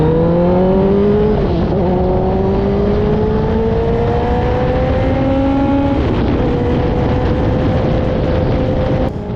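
Ducati Panigale V4S and Kawasaki ZX-10R and Z900 sport motorcycles ride off on a highway, loud engines droning and rising in pitch through gear changes, heavy wind rush over the sound, no speech.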